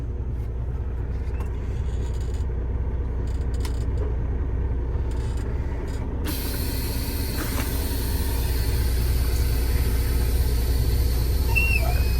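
A CDL-A truck rolling up to about 5 mph and braking to a stop, heard as a loud continuous low engine rumble throughout, with a brighter hiss and rattle rising partway through.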